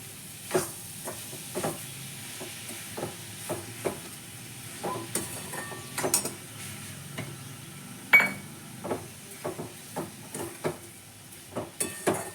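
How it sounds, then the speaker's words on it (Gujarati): Beetroot halwa with a cup of sugar just added is stirred in a pan, the spoon scraping and tapping in a steady, irregular rhythm over a soft sizzle, close up and with no talking. "હવે આ ખાંડને આની સાથે બરાબર મિક્સ કરીને આને પણ થવા દઈશું આપણે"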